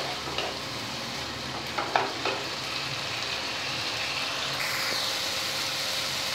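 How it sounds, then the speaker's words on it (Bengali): Slit green chillies frying with taro root and prawns in a pan, a steady close sizzle throughout with a few soft stirring clinks, the hiss brightening slightly near the end, no talking. "এবারে কাঁচা লঙ্কাগুলো যে চিড়ে রাখা আছে দিয়ে দিচ্ছি, ভালো করে কষাতে হবে"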